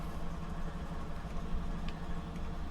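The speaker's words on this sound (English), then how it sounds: "I don't like the way this train sounds when it's idling" A video game diesel train locomotive in Train Simulator 2017 idles steadily in the background, a low continuous rumble with a faint mechanical hum, fairly quiet and unchanging.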